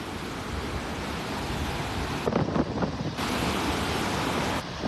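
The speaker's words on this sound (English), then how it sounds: "The tide is coming in." Ocean waves washing onto a beach in North Naples, Florida as the tide comes in, a steady broad rush of surf with a brief swell of louder wash midway, no voices.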